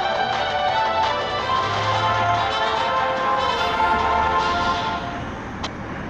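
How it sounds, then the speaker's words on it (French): Steady traffic drone with a vehicle engine humming nearby, a continuous broadband rumble that eases slightly near the end. "Désolé pour le bruit de la voiture,"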